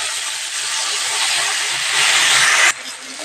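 Chopped tomatoes dropped into a pan of frying ginger set off a loud, close, hissing sizzle that swells slightly, then cuts off sharply near the end, leaving a softer hiss with no voices.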